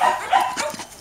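A large dog gives a couple of short, close barks and yips in quick succession, with no talk over them.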